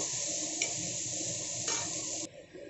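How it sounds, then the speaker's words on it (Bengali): Onion frying lightly in a pan with panch phoron spices for a Bengali tilapia curry, a steady close sizzle with a few brief clicks of stirring. "পেঁয়াজটাকে হালকা করে ভেজে নেব"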